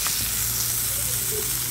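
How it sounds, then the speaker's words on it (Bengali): Small fresh river fish fry in hot oil, giving a steady, close, continuous sizzle with an even crackling texture and no speech. "দেখো কিছুটা মাছ আমি তেলের ভিতর দিয়ে দিচ্ছি, উল্টে পাল্টে হালকা করে ভেজে নেব"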